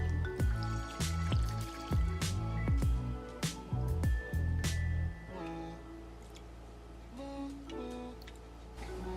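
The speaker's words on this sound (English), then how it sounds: "we're gonna pour the melted wax in." Melted wax poured into a concrete candle holder, a run of splashy drips and liquid plops, close and fairly quiet, thinning into a soft trickle toward the end.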